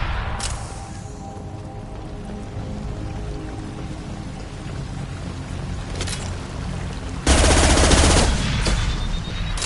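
Gunfire in the Mass Effect video game, a loud burst of automatic shots erupting late after a stretch of steady rumbling ambience, with a few earlier sharp cracks.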